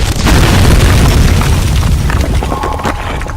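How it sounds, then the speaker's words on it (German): An explosion in the video game Amnesia: The Dark Descent bursts with a heavy, loud boom that rumbles on and slowly fades over a few seconds. "Aber seh nicht zu dicht an der Explosion."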